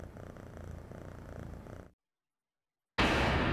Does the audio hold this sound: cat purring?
yes